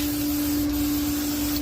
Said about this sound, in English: is just spray some graphite on here.